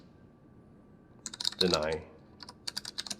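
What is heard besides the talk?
typing commands on a computer keyboard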